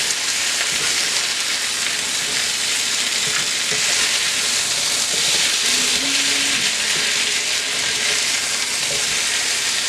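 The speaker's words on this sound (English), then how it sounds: "we're going to go ahead and flip our potatoes" Diced potatoes fry and sizzle loudly in a cast iron skillet with sausage and onions, a steady dense hiss filling the whole stretch, with a brief scrape of stirring and flipping partway through and no talking.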